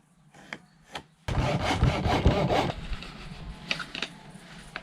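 A wooden boat part is sanded with a worn sanding disc. A few light scrapes give way to a dense stretch of harsh, continuous rasping, which then tapers to intermittent scratches. The sound is close, and no one talks.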